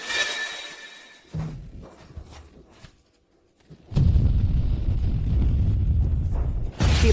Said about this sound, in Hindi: ये तो परमाणु बम है।